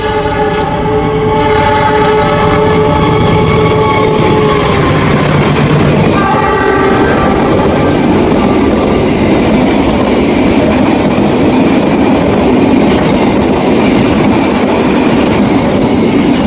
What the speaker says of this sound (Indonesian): sekarang kita lagi nunggu kereta api Malabar dari Bandung tujuan ke Malang